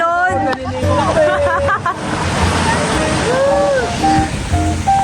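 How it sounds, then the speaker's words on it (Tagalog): Strong ocean surf pounding a beach in a continuous loud roar, while several people talk, call out and shout excitedly over the crashing water. "Lakas ng alon!"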